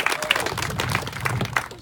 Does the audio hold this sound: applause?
yes